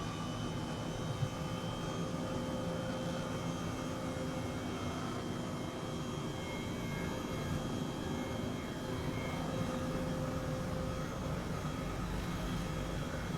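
Airbus H135 helicopter at full throttle in Flight Simulator 2020, a steady, loud turbine roar with a constant whine and rotor hum that stays even throughout, no voices over it.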